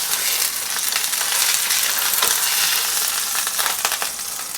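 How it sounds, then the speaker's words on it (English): A chuck roast sears in the bottom of an Instant Pot, giving a loud, steady sizzle and crackle that stays dense and unbroken throughout with no talking. "just leave the chuck roast for a couple minutes so we can get a nice sear on each side of it"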